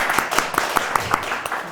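Steady, enthusiastic hand clapping from one person at a talk-concert on church-state separation, about nine crisp evenly spaced claps close by, with faint room murmur behind.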